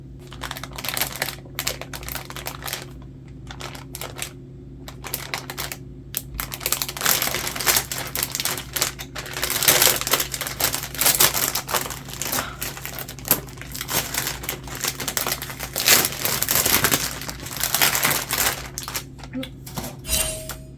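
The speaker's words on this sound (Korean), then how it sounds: "지금 비닐 포장 뜯고 있는데" Clear plastic packaging on an RG Gundam model kit is torn open and handled close up, producing a long run of crinkling, crackling rustles with occasional lighter taps and scrapes.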